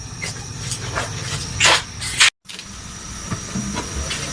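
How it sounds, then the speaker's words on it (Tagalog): A pot of tilapia paksiw with tuba at a rolling boil, steady bubbling and hissing with a few louder bursts of steam. "kumukulo na po."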